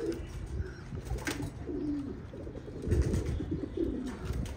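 Pigeons on a rooftop coop cooing in repeated low throaty phrases, close and fairly loud, over soft outdoor background noise.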